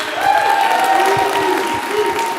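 An audience applauds at a start-up pitch event, a steady close wash of clapping that lasts throughout, with a few voices mixed in.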